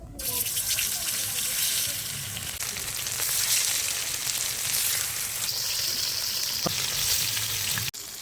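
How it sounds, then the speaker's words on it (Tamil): Leather jacket fish fries in oil with a loud, close, dense sizzle that continues steadily before cutting off abruptly near the end, with talking over it. "10 நிமிஷம் ஆகிட்டு மீனை பொரிச்சிக்கலாம்."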